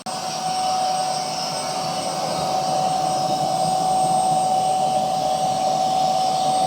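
A Narwal Freo Z10 Ultra robot vacuum running, giving off a steady close whirring drone with a high whine on top, continuous and even.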